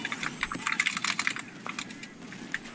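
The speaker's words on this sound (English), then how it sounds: "Right, just furious typing." Furious clattering on a computer keyboard during a Team Fortress 2 session, a quick burst of close keystrokes that thins out toward the end, heard alone without voices.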